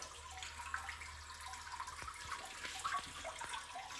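A fill valve refills the tank of a 1961 Case 1100 lowboy toilet on silty well water, giving a steady, close hiss and trickle of running water with faint gurgles throughout.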